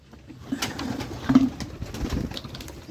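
A flock of over a hundred kept pigeons gathers by a drum, cooing in soft overlapping throaty rolls close by, with scattered light taps and rustles among them.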